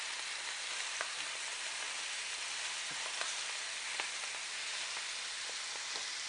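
Lamb chops sizzle steadily in an open cast iron pan, a dense, even hiss with scattered sharp pops and crackles throughout, close and loud with no talking.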